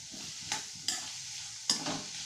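Ingredients for a lentil saru stirred in a pan with plenty of hot oil, a steady frying hiss broken by three sharp scraping strokes of the spoon.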